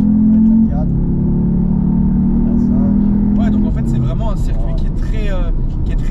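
Car engine drones steadily at a circuit near Montpellier during a driving lesson, a sustained low hum with a pitch shift as it lapses into the straight, while an instructor and driver talk throughout.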